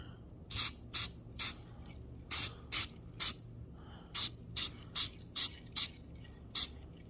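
Spray paint going on in a light coat over an old truck, about a dozen short hissing bursts of the can in quick, uneven succession, close and clear against a quiet background.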